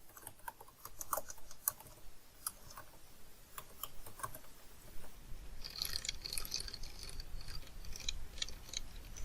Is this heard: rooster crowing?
no